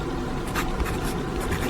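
Pen writing by hand in a journal: soft, close scratching strokes in short bursts over faint background noise.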